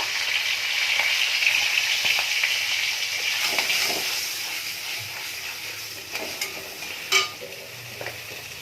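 Nigella seeds and dried red chillies tempering in hot oil for an ilish fish curry give a steady, close sizzle and hiss, with a few sharper pops and spatters near the end.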